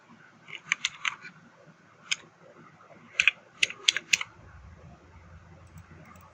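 Scattered keystrokes on a computer keyboard while a name is entered in Canva, sparse crisp clicks in small bursts with pauses between, close and fairly quiet.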